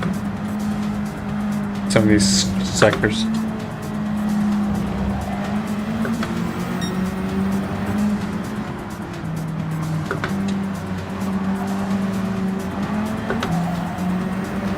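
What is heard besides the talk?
race car engine revving in Gran Turismo video game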